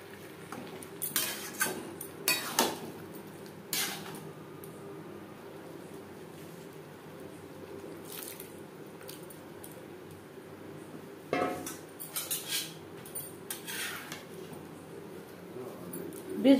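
Boiled rice and lentils being mixed into spiced vegetables for khichuri in a pot, with clusters of metal spoon clinks and scrapes against the pot at the start and again near the end, separated by a quiet stretch.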